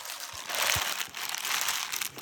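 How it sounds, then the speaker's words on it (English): A plastic bag crinkles and rustles in bursts as it is scrunched and pushed into a sneaker, with a few soft low thumps between the crackling. "I'm gonna stuff it with a plastic bag"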